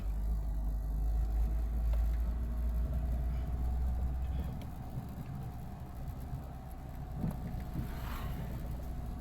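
An automatic-transmission vehicle drives along a rural road, with a low steady engine rumble and road noise that drops slightly in level midway, then continues evenly.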